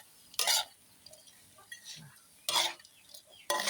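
Mole crickets dry-roasting with salt in a pan, stirred in three loud scraping, rattling bursts separated by quieter pauses with faint clinks.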